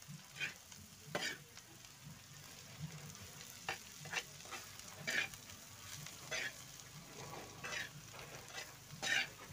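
Bitter gourd stir-fry being stirred in a pan, soft sizzling frying under repeated scraping strokes of the spatula at an irregular rhythm, quiet and close, with no talking.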